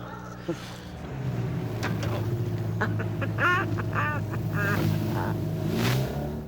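Ducks quacking in a hunting spot, a run of repeated raspy calls over a continuous low motor hum, moderately close and loud.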